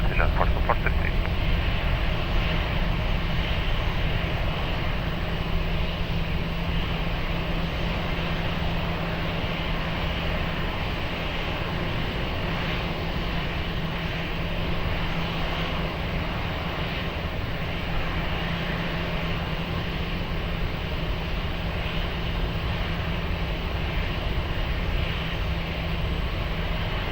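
An airplane at Lisbon Airport gives off a loud, steady engine roar with a low hum that holds for the whole stretch, with no breaks.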